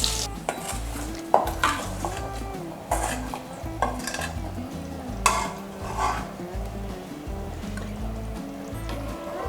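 A tempered, fried onion mixture poured into a sprouted green gram curry, giving a sizzle with repeated metal spoon and pan clinks and scraping, fairly close and without speech.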